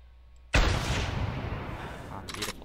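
A hunting rifle fires once at an ibex in theHunter, a sudden loud close report followed by a long rolling echo that decays slowly, with a faint brief rustle near the end.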